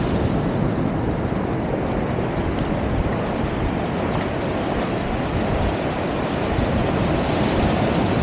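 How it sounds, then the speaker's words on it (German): Steady rushing surf of ocean waves at Maspalomas, Gran Canaria, fills the whole stretch, with wind buffeting the microphone and no voices. "es sind doch wieder richtige Wellen"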